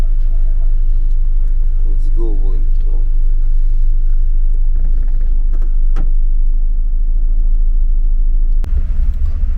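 A cargo truck's engine runs in Almaty, a loud steady low rumble heard from inside the cab while people talk briefly over it.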